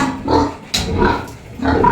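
Piglets bought as new stock grunt in short, low bursts, three clustered snorts close by in a farmyard setting with no talk over them.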